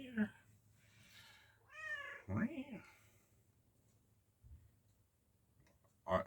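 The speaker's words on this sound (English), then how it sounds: "I've got this cat. Sorry, cat's getting affectionate. Hey cat." A cat meows a few times up close, rising, drawn-out cries with quiet gaps between, and a short sharper sound at the end.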